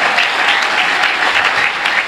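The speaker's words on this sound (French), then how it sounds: "Est-ce qu'on peut encore acclamer?" A church congregation applauds during a family Sunday service, a loud, dense, steady clapping that fills the whole stretch.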